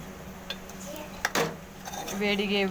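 A metal lid clanks onto a pan of mutton fry in a home kitchen, with a few sharp clinks and one louder clatter, under quiet speech.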